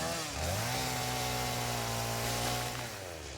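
A Satisfactory video game chainsaw spins up, its buzzing motor climbing quickly to a loud, steady whine that holds for a couple of seconds and then winds down.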